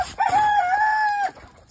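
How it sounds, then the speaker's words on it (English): A backyard homestead chicken lets out a single loud, drawn-out squawking call lasting about a second, close to the microphone, with quiet surroundings before and after. "silly chickens."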